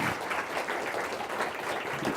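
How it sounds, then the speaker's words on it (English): A conference audience at a DevFest design lecture claps for the speaker, a steady, moderately quiet wash of applause with no pauses. "A round of applause for Nick Page."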